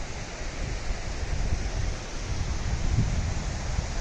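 Waterfalls pour among rocky, open outdoor terrain, a steady broadband rush with a low rumble, close and continuous with no voices.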